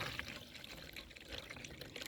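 Water pours into a hydroponic growing container mixed with compost soil, a soft, continuous splashing trickle heard up close and faint.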